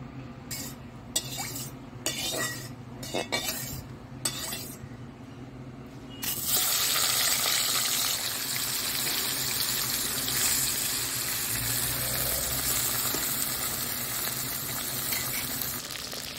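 Small hilsa fish rubbed with salt and turmeric frying in hot mustard oil in a kadai: a few scattered clinks, then a sudden, loud, steady sizzle that continues without letup.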